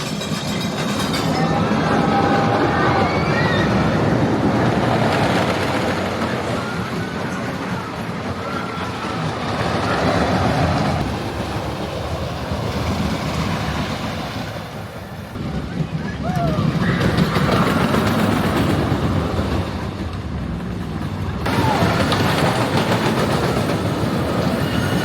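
A ride on the Giant Dipper, a 99-year-old wooden roller coaster at Belmont Park in San Diego: continuous loud rumbling and clattering of the cars on the track, with heavy wind rush and riders' voices throughout.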